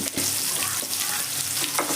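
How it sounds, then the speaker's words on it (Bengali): Sliced tomatoes sizzle in hot oil in a pan and are stirred, giving a continuous close frying hiss broken by a few sharp scraping stirs. "এবার টমেটোটাকেও আমি ভালো করে তেলে নেড়ে নেব"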